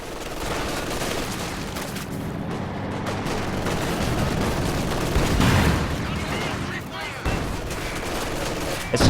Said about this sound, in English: SU-76 firing on the MG-42 will prompt it to reposition.